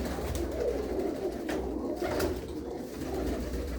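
Pigeons in a pigeon loft coo continuously in a low, rolling murmur, several birds overlapping nearby with no one speaking.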